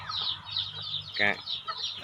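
Farm chickens cluck repeatedly at close range near a cage for newborn chicks, with short bright calls rising over a low background hum.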